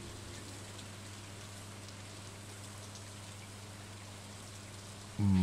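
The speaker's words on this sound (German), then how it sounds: "heute ist draußen voll der Regen" Steady rain in the farming video game Stardew Valley, a continuous even hiss of falling drops that holds throughout, ending with a brief louder low thump.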